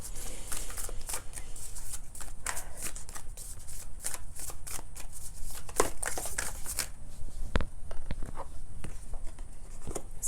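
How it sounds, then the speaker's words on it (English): A deck of self-care oracle cards is shuffled by hand, with quick papery riffles and soft slapping patters repeating close up for about ten seconds, no voices. "I'm going to shuffle from the self-care deck"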